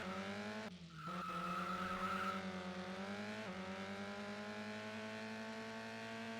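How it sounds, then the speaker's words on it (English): A Turbo Sliders Unlimited racing car engine drones steadily with harmonic whine, briefly dropping in pitch as it shifts gear around the one-second mark, then climbing on; synthetic, game-like tone. "it sounds like the car's got gears"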